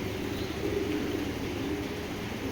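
Pigeons of an old tournament-flying line cooing softly in a loft, a low, steady murmur of coos running continuously throughout at moderate distance, with no talk.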